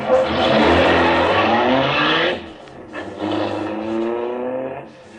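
A big car drives along with a loud, close engine drone that cuts back sharply, then swells again at a lower, steadier hum before fading near the end.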